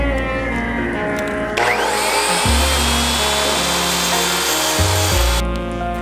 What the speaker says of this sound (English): So I finally finished cutting out all the pieces for the face frame.